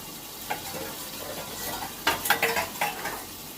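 Taro pieces frying in oil in a pan for a thin katla fish curry, a continuous sizzle broken by several scraping stirs of a spatula, close and clear, no voices.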